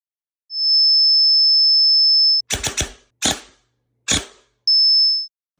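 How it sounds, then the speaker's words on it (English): A steady high pure sine tone from a tone generator holds for about two seconds, a few sharp clicks follow, then the same tone briefly returns. "punch that number into a tone generator, and you will recognize that sound immediately"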